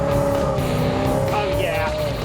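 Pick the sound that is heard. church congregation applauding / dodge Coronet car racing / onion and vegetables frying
dodge Coronet car racing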